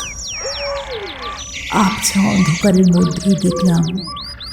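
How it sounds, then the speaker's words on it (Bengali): Several birds chirp and whistle in rising, repeated calls, while a person talks over them in the middle. "একসঙ্গে বেশ কিছু পাখি ট্যা ট্যা করে ডাকতে শুরু করল"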